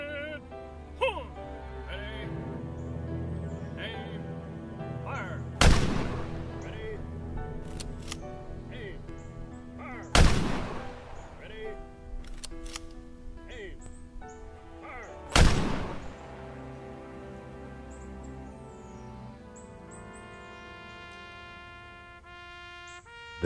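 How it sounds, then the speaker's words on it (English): An Army honor guard of seven soldiers in dress blues fires a rifle volley salute at a military funeral, three loud cracks spaced about five seconds apart, each ringing out, under a sustained musical score. "7 honor guard soldiers, wearing U.S. Army dress blues, ceremoniously raise their rifles"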